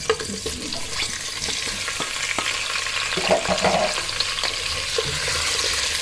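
Potatoes sizzle and crackle in hot oil while being stirred, with scraping and clattering in the pan throughout.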